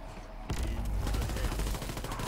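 Rapid automatic gunfire at zombies in the video game WWII Zombies, a dense continuous burst starting abruptly and holding loud and steady, with a voice faintly underneath.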